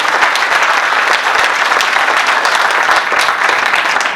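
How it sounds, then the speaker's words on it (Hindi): Loud, dense applause from an audience at a college comedy poetry gathering, continuous clapping sustained at even strength for the full four seconds without talk. "जोरदार तालियां कमजोर है भाई"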